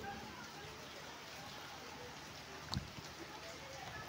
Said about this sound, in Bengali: দেখুন বাইরে কেমন ঝড় বৃষ্টি হচ্ছে